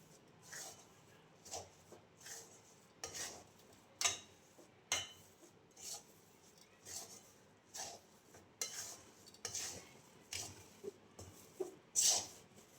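A spoon stirs a barfi churma mixture with grated coconut in a pan, making steady, close, rhythmic scraping and tapping strokes that repeat about once a second.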